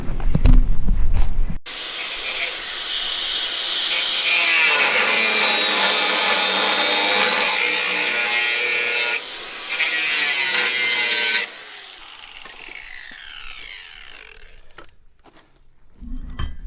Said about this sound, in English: we're just going to remove that with the angle grinder